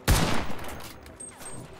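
A single gunshot rings out in the Enlisted video game, a sharp loud crack with a reverberant tail fading over about a second.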